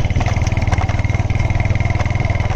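A 25–30-year-old motorcycle engine that struggles to breathe chugs steadily through the clip in a rapid pulsing putter while it rides a narrow raised path between fields off-road, close and loud with no talk.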